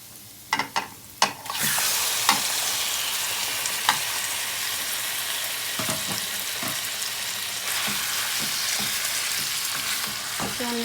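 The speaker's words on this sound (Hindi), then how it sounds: "अब हम इसमें चिकन को शामिल करते हैं।" Chicken pieces for karahi drop into a hot pan with a few sharp thumps, then a steady loud sizzle of frying with light stirring clatter throughout, close up and without talk.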